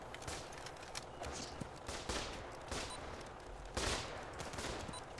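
In a trench warfare video game, a wildly inaccurate gun fires repeated rapid volleys amid a continuous battlefield clatter. The shots come as dense bursts with louder peaks near the middle and toward the end, and faint footsteps mix in underneath.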